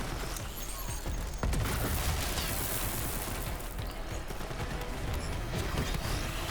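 The Jakobs Unforgiven gun in Borderlands 3 fires with loud, dense blasts that run almost without a break through a chaotic, noisy battle.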